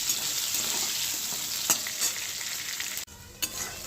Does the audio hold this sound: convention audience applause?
no